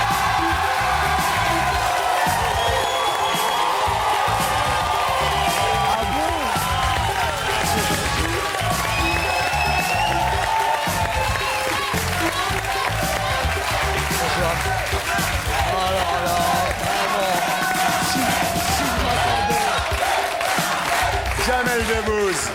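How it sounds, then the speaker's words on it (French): A studio audience applauds and cheers loudly for a guest at a televised French talk show, a dense continuous wave of clapping and whoops with voices mixed in throughout. "je comprends un petit peu ces applaudissements et cet accueil"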